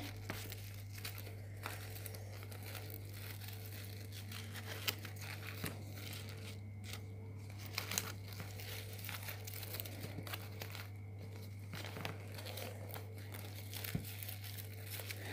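A paper doily is crumpled and creased by hand to shape a flower, giving soft, steady crinkling and rustling close up over a low constant hum, with no talking.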